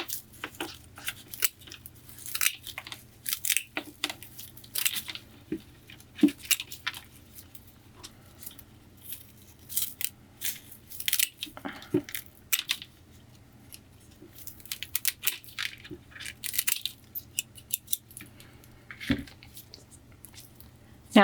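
Dry, crispy leaves are trimmed off succulent plants with scissors, giving a long run of quiet, irregular snips and small rustles at close range, with no talking.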